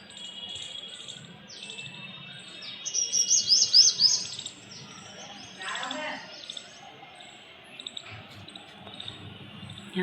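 A small bird chirps from a tree in the shade of a neem tree, giving a brief burst of high twittering notes at moderate distance over a soft outdoor background of scattered faint rustling.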